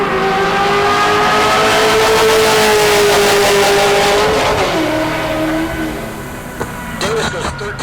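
Corvette in the 12.0 class launching down a drag strip at Heartland Park Topeka, its engine roaring loudly with a rising then falling pitch through the gears, a steady pull that fades near the end with crowd or announcer noise underneath.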